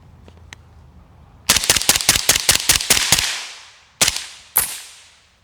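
Suppressed 5.56 rifle fire from a piston-driven MCX with a 12-ounce WhisperStrike titanium suppressor: a rapid string of about nine loud, sharp shots, then a pause and two single shots, each with a short ringing tail.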